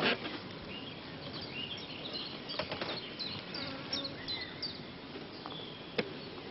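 Honeybees hum in a steady, close swarm around frames lifted from a hive, a continuous buzzing drone with individual bees passing near and a few sharp clicks and knocks from handling the frames.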